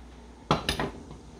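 Seasoned pans kept on a stove clatter as they are handled, giving two or three quick metallic clanks in close succession, near and fairly loud, with no talking.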